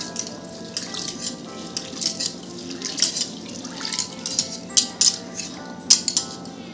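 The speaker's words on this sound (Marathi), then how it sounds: "चांगली 2-3 पाण्याने धुवून घ्यायची ह्याला" Toor and moong dal rinsed in water in a pot, with repeated splashing and swishing strokes, metallic clinks against the vessel, close and moderately loud, no talking.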